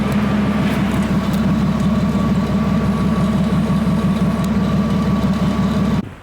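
A VW Golf TDI engine fitted with a new DKM twin-disc clutch idles steadily and loudly with a low, even rumble, running alone and continuously before cutting off near the end.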